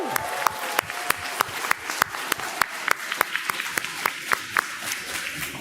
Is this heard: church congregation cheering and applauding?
yes